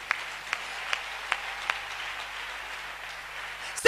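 A church congregation claps in a sparse, evenly spaced rhythm, five distinct claps heard over a quiet room tone, with a sharper burst of sound right at the end.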